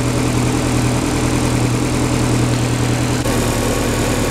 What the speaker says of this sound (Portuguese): Ó como tá falhando, pessoal, ó. Motor tremendo muito